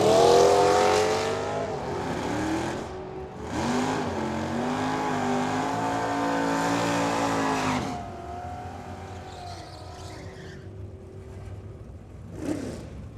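A 1968 Camaro drag racing at Firebird Motorsports Park roars loudly at full throttle, its engine note sweeping and fading, followed by quieter engine noise and a brief sharp burst near the end.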